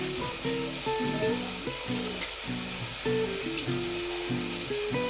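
Ginger garlic paste frying with butter and onions gives a steady, close hiss of sizzling under a rhythmic tonal melody that runs throughout.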